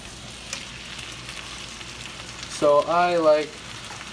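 Tomatoes fry in a crowded pan with steak for bistec asado, a steady soft sizzle running throughout, and a voice talks briefly over it near the end.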